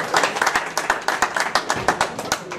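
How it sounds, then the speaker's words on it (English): A small audience at a resort gathering claps in a loose, uneven burst of distinct hand strikes, fairly close and sparse enough that individual claps stand out, with faint crowd murmur underneath. "let's give her a clap for that one."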